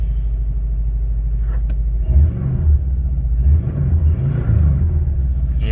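A Subaru WRX Bugeye with a boost gauge fitted and a reported system leak code, its engine rumbling loudly and steadily up close, with a deeper throaty swell partway through, no voices.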